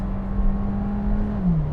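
A Skoda Slavia 1.5 sedan engine drones steadily from inside the cabin, its pitch holding and then dipping near the end as it pulls.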